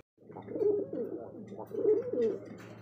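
A wingless satin pigeon coos twice, two close, soft rolling coos about a second apart in a quiet setting.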